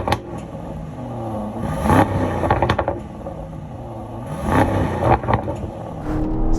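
A 2022 Aston Martin DBX luxury SUV engine revving nearby, deep throaty tone rising and falling in two or three swells with some mechanical clatter, no talk.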